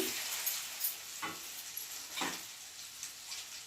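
Garlic cloves are stirred into lemon pickle in oil, giving soft, faint scraping and light sizzling with a few irregular stirring strokes close by.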